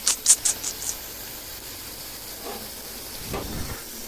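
Ginger, onion and garlic paste sizzles in a pan while a rui fish and cauliflower curry is being cooked, giving a steady close hiss with a few sharp spits and pops at the start.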